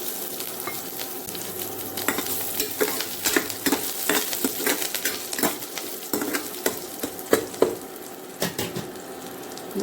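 Mustard seeds, urad dal and onion fry in sesame oil in a pan, giving a loud, close sizzle broken by constant popping and crackling of the seeds.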